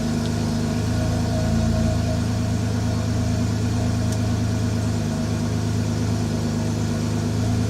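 A steady low engine idle hums throughout, with a faint continuous mechanical whir of a BMW E9x moonroof motor resetting layered on top; no talking.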